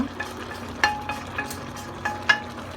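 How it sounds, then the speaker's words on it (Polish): Fried onion, hot dog and sausage are tipped into cabbage in a pan, giving a low steady sizzle broken by several light scraping stirs and utensil taps against the pan, close and with no talking. "Przekładamy z powrotem na ten palnik i dodajemy właśnie podsmażoną cebulkę z parówką i kiełbasą."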